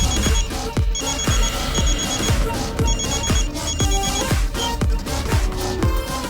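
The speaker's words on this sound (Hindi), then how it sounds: "चिंटू भैया का फोन।" A phone rings with a repeating electronic alarm-like tone over loud music with a heavy, regular thumping beat, the ring pattern recurring in short bursts throughout.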